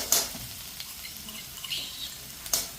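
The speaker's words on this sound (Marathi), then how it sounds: "थोडंसं लसण, अद्रक लसण पेस्ट केलेली आपण ते मस्त परतून घेऊ।" Garlic and ginger-garlic paste sautéing in hot oil with mustard seeds and cumin, a soft steady sizzle with a couple of brief sharp stirring clatters, close and fairly quiet.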